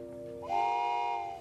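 A person's voice imitates a train whistle with a single sustained, steady hoot lasting about a second, clear and alone.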